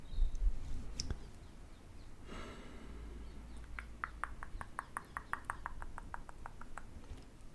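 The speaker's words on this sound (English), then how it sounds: "Hear the birds, the call, the dawn chorus." Faint birds call outdoors in the afternoon, building into a quick, evenly spaced run of chirps in the second half over a quiet background.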